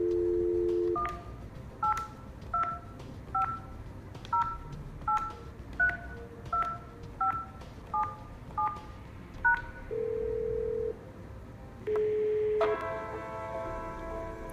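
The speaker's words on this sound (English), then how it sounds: "use extension 8002 to dial a mobile number" A telephone keypad dials a mobile number in a rapid sequence of about a dozen evenly spaced DTMF tones, followed by a steady tone and then a ringback signal, clear and close with no talking.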